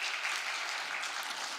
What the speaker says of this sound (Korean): 우리 박수 한번 하도록 하겠습니다.